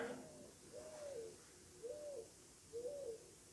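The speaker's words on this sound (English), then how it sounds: "I think an owl is roosted in my freaking chimney, because I'm hearing an owl sound come out of here." Soft, low hoots from an owl apparently roosting inside a house chimney, four evenly spaced calls about a second apart, faint and slightly muffled against a quiet background.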